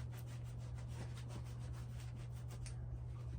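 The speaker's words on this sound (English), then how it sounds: "it'll even polish up the polyurethane finish" Polishing the polyurethane finish of an old, grimy coffee table brought in from a shed, heard as quiet rhythmic back-and-forth rubbing strokes over a low steady hum, with no voices.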